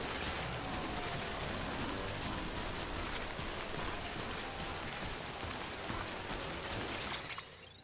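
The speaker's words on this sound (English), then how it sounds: "It is raining heavy here, guys." Heavy rain pours steadily in the video game Death Stranding, a dense and continuous hiss that holds at the same level throughout and fades only in the final moment.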